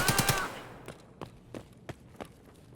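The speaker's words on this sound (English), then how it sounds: "Form of machine gun that fires lots of bullets." Machine gun fire in the shooter game Escape from Tarkov, a short loud burst of rapid shots followed by several fainter single cracks spaced apart.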